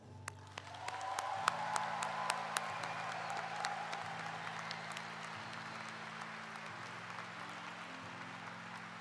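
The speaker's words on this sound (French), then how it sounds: "je pense que nous méritons un maximum d'applaudissements pour cela" Sustained applause from a large graduation audience, steady clapping that fills the space for several seconds without pause.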